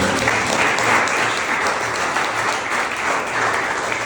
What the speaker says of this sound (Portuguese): pode aplaudir o nome dele?